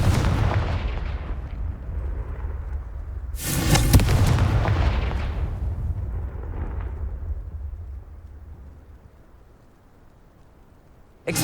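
Confringo fire spell blasts in Hogwarts Legacy on PS5, a loud booming explosion that swells then decays into a long rumbling tail, with a second sharp burst at the end.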